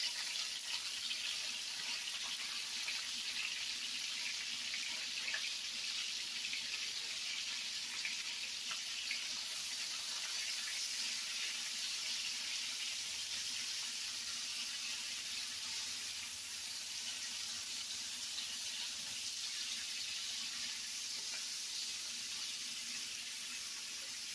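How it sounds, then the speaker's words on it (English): Sliced medium onion sautéing in a pan, a steady, soft, broadband sizzle continuing evenly and faintly throughout with no talking. "And now we're going to saute our onions."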